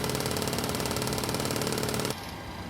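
The stick shaker of a PMDG 737-700 in Microsoft Flight Simulator rattles as a rapid, steady mechanical buzz for about two seconds, then cuts off, leaving quieter cockpit hum.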